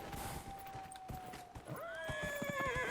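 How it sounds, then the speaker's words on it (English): Horse hooves clip-clop at a gallop in Dragon Age: Inquisition, then a loud neigh rises in the second half, all continuous and close with no talking. "If my horse would not stop galloping every time I step on a single rock, that would be super sick."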